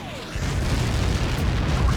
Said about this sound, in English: Missile coming at you!